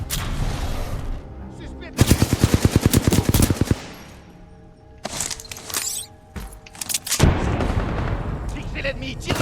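Sustained bursts of suppressive automatic gunfire in a video game, rapid and loud, with a dense volley mid-clip, scattered shots and booms, then heavy firing resuming toward the end.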